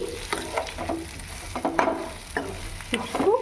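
Pieces of drumstick (moringa) are stirred in hot oil as a spiced seasoning, with a soft steady sizzle beneath repeated scraping clatters of a spoon against the pan, close and moderately loud.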